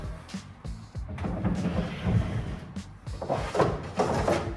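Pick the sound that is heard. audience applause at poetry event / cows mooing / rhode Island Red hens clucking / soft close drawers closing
soft close drawers closing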